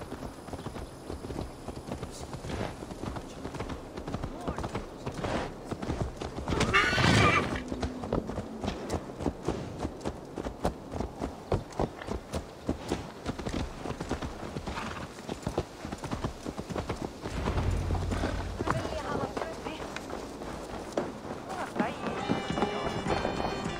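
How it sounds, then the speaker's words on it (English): Horse hooves clip-clop rhythmically in Assassin's Creed Valhalla, close and steady over about twenty seconds. A brief whinny comes near the middle, and game voices talk over parts of it. "Let's return the horse."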